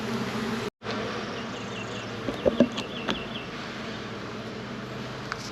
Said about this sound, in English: You can tell they're really busy in the hive.